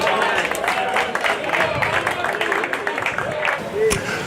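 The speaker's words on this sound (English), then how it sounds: "Give them a round of applause." Outdoor festival audience at a hempfest clapping and cheering, a busy patter of applause with crowd noise and voices mixed in throughout.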